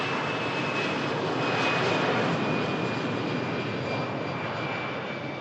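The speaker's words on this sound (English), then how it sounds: "Lufthansa Neo on the takeoff roll" Lufthansa A320neo jet on its takeoff roll, a steady, moderately loud engine roar with a thin high whine running through it, rising slightly midway and fading a little at the end.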